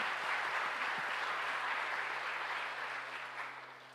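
A crowd at a Martin Luther King awards ceremony applauds board members, a steady wash of clapping from many hands, somewhat distant and muffled, holding evenly before tapering slightly at the end over a faint low hum.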